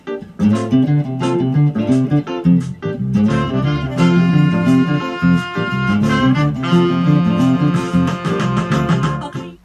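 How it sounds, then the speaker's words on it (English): A funk guitar plays the second part of a song, steady and loud throughout with no talking. "Guitar two will sound something like this."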